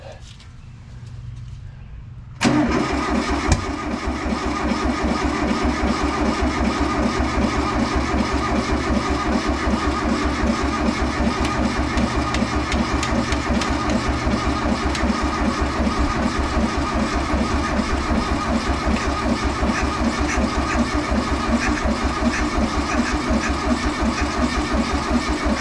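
A 1973 VW Westfalia engine with a refurbished carburetor cranks, then catches and settles into a loud, steady, rhythmic idle that runs for over twenty seconds.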